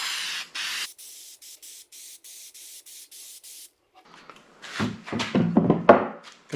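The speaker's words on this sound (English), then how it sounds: "Just going to spray this on, give it a protective coating." A spray can of matte finish hisses in a burst, then in a run of short, even bursts, over a wooden sign made from a beetle-damaged log, followed by scraping and rubbing sounds close by.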